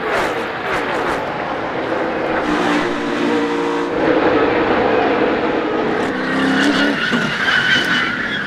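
NASCAR stock cars racing late in the Daytona 500 amid a multi-car crash, a dense, loud roar of engines with tire skidding and screeching throughout, a commentator's voice faintly underneath.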